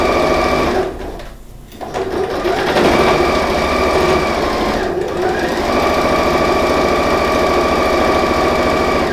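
Sewing machine stitching fabric for a patchwork refractory-dish holder runs in a loud, close, steady mechanical whir, briefly slowing or pausing twice before resuming its even stitching rhythm, with no voices.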